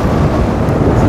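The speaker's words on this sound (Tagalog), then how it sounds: "Malakas yung hangin," Strong wind buffeting a microphone during a road bicycle race, a loud, continuous low rumble with no other sounds.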